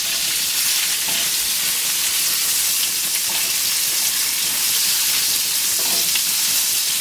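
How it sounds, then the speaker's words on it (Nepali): Onion fries loudly in a pan for chilli momos, a constant bright sizzle with occasional stirring scrapes and clinks, close and uninterrupted by talk. "प्याजलाई हल्का भुट्ने"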